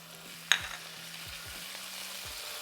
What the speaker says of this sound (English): Fry that for a few seconds, just like this.